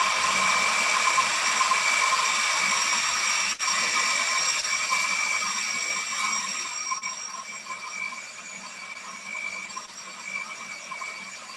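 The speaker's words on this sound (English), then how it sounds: "Okay, so now we're just gonna blend it until it's nice and creamy." A blender whirs steadily, blending a vegan banana mixture until creamy, a loud continuous motor whine that holds for most of the time and eases slightly toward the end, with no talking over it.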